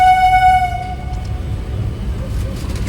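A Sealdah–Krishnanagar AC local train sounds a loud horn at Dum Dum station for about a second, then the steady rumble of the train on the rails carries on alone.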